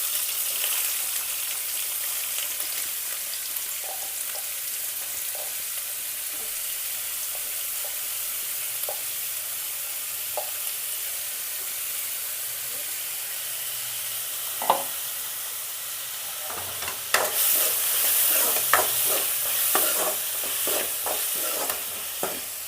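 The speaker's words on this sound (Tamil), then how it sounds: "இப்போது இந்த எண்ணெய் சூடானதும் நான் சின்னதாக நறுக்குன வெங்காயத்தை சேர்த்துக்க போகிறேன்." Finely chopped onions sizzle in hot oil for a paneer masala gravy, a steady close frying hiss that grows louder and busier near the end as stirring scrapes and crackles join in.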